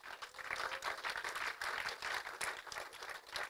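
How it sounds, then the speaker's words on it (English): Steady applause from a keynote audience at a film festival, dense even clapping sustained throughout, moderately loud with no talk over it. "Let's clap for that."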